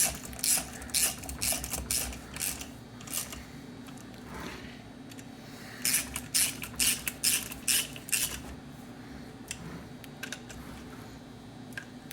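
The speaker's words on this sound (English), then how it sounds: "when I'm tightening these down, I go in a crisscross pattern just to help put even pressure on the cover" Small screws being tightened on the aluminum IAC cover of a Holley Super Sniper throttle body: quiet clicking, ratcheting tool sounds come in short bursts with pauses between them, close by and alone.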